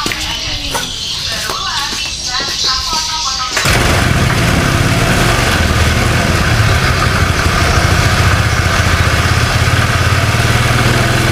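A Honda Vario scooter engine idles loudly and steadily at close range, its revs raised slightly; a short stretch of other mechanical noise comes first.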